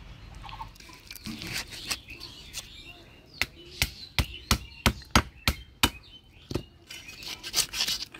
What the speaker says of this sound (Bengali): মাছ ছোট মাছ তো তাড়াতাড়ি কাটা হয়ে গেল।